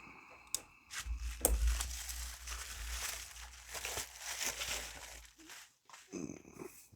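Rustling and crinkling of packaging as a box for a GKD Bubble handheld is cut open, with scraping and crackly tearing bursts, close by and moderately loud, no talking.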